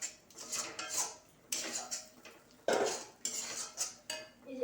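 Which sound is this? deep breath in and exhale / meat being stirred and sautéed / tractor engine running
meat being stirred and sautéed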